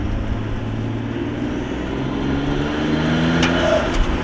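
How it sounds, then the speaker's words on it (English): A Nissan R33 GTR V-spec turbo car heard from inside, a loud steady engine drone, then a brief hissing blow-off valve release near the end. "Oh, a little blow-off valve action."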